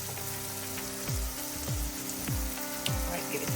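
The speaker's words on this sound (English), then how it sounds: "It's really just infusing the curry with some oil for a minute" Curry sizzles in hot oil in a pan with a steady, close frying hiss, while a repeating rhythmic musical pattern plays underneath.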